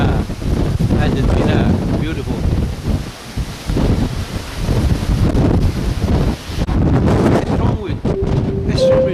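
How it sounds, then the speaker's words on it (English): Strong Antarctic wind buffets the microphone in loud, gusty rushes that rise and fall, with a person speaking intermittently over the roar. "strong wind. That's really strong wind."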